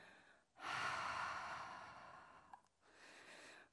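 A long audible exhale through the mouth and nose in a yoga pose, close and breathy, tapering off, followed by a softer breath with no talking.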